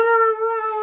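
A person imitates a dog with a single sustained, tonal howl-like bark, clear and close, lasting under a second with no other sounds.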